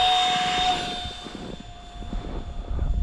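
A Deerc F35 FX9635 RC airplane takes off, its small electric motor whining loudly up close and then trailing off as it climbs away, followed by rumbling wind noise.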